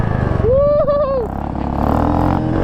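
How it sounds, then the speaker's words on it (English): A dirt bike engine with an exhaust leak revs up and down close by, its pitch rising and falling with a rough, rattling sputter through the exhaust. "Oh, you got an exhaust leak."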